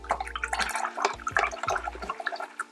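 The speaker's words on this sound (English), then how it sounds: "wash our brush" A paintbrush is rinsed in water for landscape painting, giving a close burst of swishing and splashing that settles into lighter trickles and drips.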